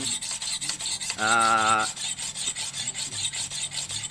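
A hand file rasps steadily against the steel of a rubber-tapping knife being shaped, with rhythmic back-and-forth strokes close up and one brief buzzing tone midway.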